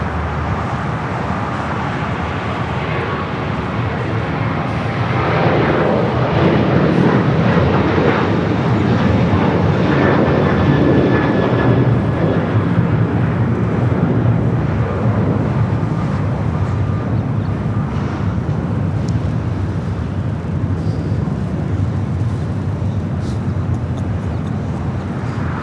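Boeing 737-800 jet airliner departing LAX for Chicago O'Hare, a loud, sustained engine roar that swells after a few seconds and slowly fades while staying strong, with no voices.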